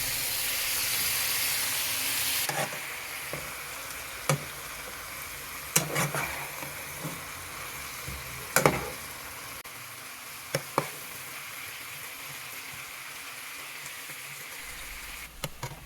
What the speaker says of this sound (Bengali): শাকগুলো থেকে পানি বের হয়েছে, এই শাকগুলো কষিয়ে নিয়ে একদম পানিটাকে শুকিয়ে নিব